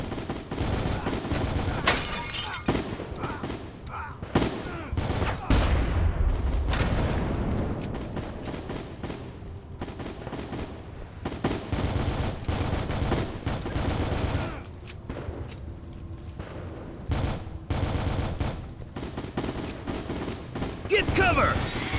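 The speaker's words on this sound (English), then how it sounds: "Machine gunner!" Rapid bursts of machine gun fire and heavy gunfire in the military shooter game Heavy Fire: Shattered Spear, dense and loud throughout with booms and shouted voices mixed in.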